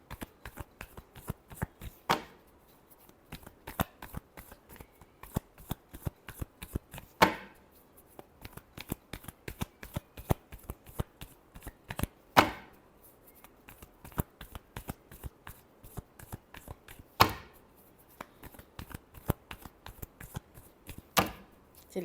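Tarot cards are shuffled in repeated riffling bursts, each ending in a sharp snap as the deck is squared, over about twenty seconds with no talk.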